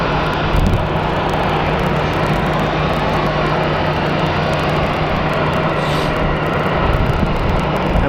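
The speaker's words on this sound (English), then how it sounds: "Watching this Envoy plane depart" A departing Envoy passenger jet at Phoenix Sky Harbor International Airport produces a loud, steady roar of engine noise that holds unbroken throughout, close and dominant with no talk.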